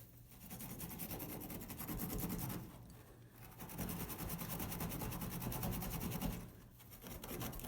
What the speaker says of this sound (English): I'm going to use that to get the end of this flame sensor probe cleaned up here